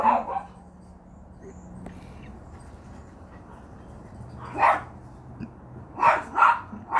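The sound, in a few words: dogs barking in the yard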